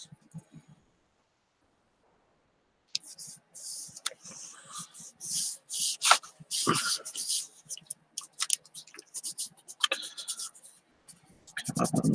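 Stickers rubbed down firmly on a surface, close scratchy bursts of rubbing in uneven strokes after a quiet start.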